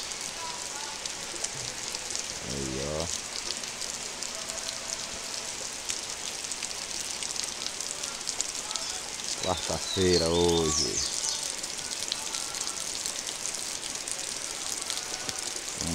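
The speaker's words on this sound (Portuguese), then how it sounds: "Muita chuva aí, ficou linda" Heavy rain falls steadily as a broad, constant hiss over green vegetation and dark, soaked soil during the wet season, with a person speaking briefly in Portuguese over the downpour.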